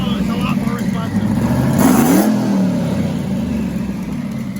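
Big-cam twin-turbo LS V8 blips up in a single rev around the midpoint, rising and falling back to a lumpy idle, heard close and loud with a steady rumble throughout.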